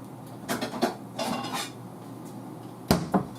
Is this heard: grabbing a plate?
yes